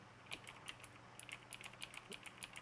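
Soft, quick keystrokes click on a computer keyboard in an irregular burst, faint and close, with no voices.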